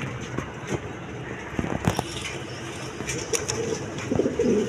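Pigeons coo softly in a loft where a pair of large Bombay pigeons sits on eggs, the low calls repeating over a background of shuffling wings and distant traffic.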